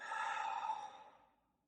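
A person exhaling or breathing hard during a core-strengthening exercise on hands and knees, one close, audible breath that fades out over about a second.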